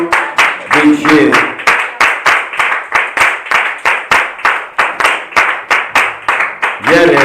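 Rhythmic unison clapping from a congregation at a women's day church gathering in Djagblé, about twenty steady beats, with a voice calling out at the start and again near the end.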